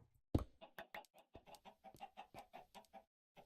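Chickens cluck in the Minecraft video game, a rapid run of short, close, clear clucks starting with one louder burst and continuing in an even rhythm, with no talk over them.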